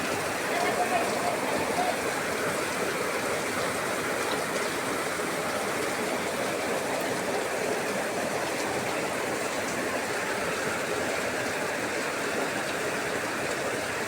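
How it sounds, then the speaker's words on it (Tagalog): Heavy midday rain pours down in a constant, dense roar of drops drumming on a roof, steady and loud throughout. "Ang lakas ng ulan."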